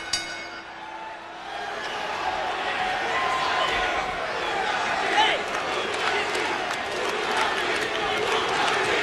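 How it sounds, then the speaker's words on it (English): A wrestling crowd in an arena roars and chants a wrestler's name in a steady, loud rhythm, with commentators talking over it. "Listen to the crowd chant Funaki"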